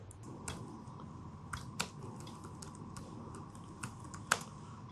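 Keys on a computer keyboard click in sparse, irregular taps while C code is typed, quiet and close over a low background hum.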